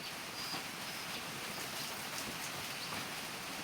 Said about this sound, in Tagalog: Ulan-ulan dari sa amo ang bukid karon.